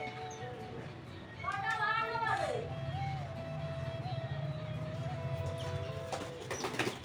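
Pigeons coo softly and repeatedly while being fed grain at home, with young pigeons just out of the coop nearby, under a person talking and calling them.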